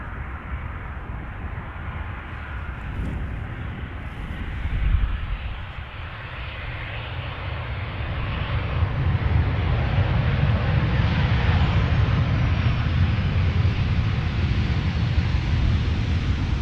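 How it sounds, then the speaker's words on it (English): Transavia airliner arriving from Pisa and landing on the runway at Amsterdam Schiphol Airport, with a steady jet engine roar that swells and holds loud from midway on, no voices. "the Transavia arriving from Pisa"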